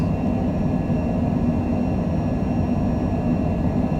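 Airliner jet engines roaring at high power during a takeoff roll, a loud, steady, dense rumble that holds unbroken and close throughout.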